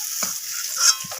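Brinjal frying in hot oil gives a close, steady sizzle with bright crackle and a couple of soft stirring bumps across a short moment.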